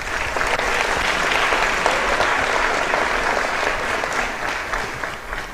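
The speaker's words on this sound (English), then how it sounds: "Please join me in giving a round of applause to our sophomore recipients" Audience applause for sophomore award recipients at a school People's Choice Awards ceremony, a steady, dense wash of many hands clapping that holds evenly at full strength for the whole stretch without talk.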